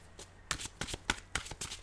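Tarot cards riffled and shuffled by hand in several quick bursts, close and crisp, with short pauses between each flutter.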